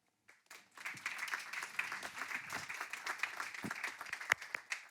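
An audience in a hall applauds as Senator Sophie Primas comes on stage, clapping starting abruptly after a brief silence and holding steady at a moderate distance, with a few sharper claps standing out.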